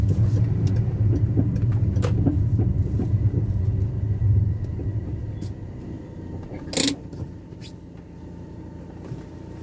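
2005 Peugeot 307 S CC with the exhaust back box deleted: a rumbling engine and exhaust note, loudest at first and fading to a lower idle, with brief clicks and knocks and a voice faintly in the background.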